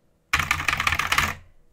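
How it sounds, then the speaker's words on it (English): Rapid clicky keystrokes on a Skyloong GK61 mechanical keyboard, a dense burst of sharp taps lasting about a second, close and fairly loud, with no voices. "if you're in an environment where people would get annoyed at clicking, then maybe think twice about this keyboard."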